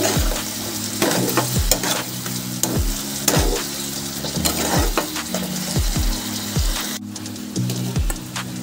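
Chopped tomato and slit green chilies sautéing with spices for a soybean and potato kosha, a loud close sizzle broken by repeated rhythmic scrapes of a spatula against the pan.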